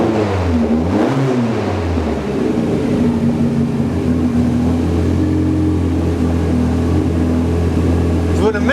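A loud DTM Ford Sierra RS500 Cosworth race car engine idles and revs close by, its droning pitch rising and falling steadily throughout.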